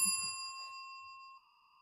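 A bright single notification bell ding rings out clean and alone, its tone sustaining and slowly fading.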